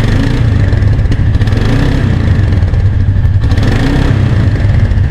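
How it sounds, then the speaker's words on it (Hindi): A Royal Enfield Meteor 350 motorcycle engine runs loud and close with a deep, pulsing thump, rising in a couple of short revs over the steady idle. "देखते हैं थोड़ा सा एग्जॉस्ट नोट इसका।"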